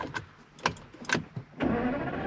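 A V12 engine in a car cranks over in a few short bursts and then catches into a steady, loud idle rumble heard up close.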